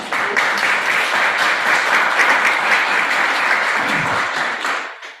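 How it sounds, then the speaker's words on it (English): An audience at a women's community event gives a big round of applause for the speakers, dense and loud continuous clapping throughout that fades out at the very end. "Big round of applause for our ladies."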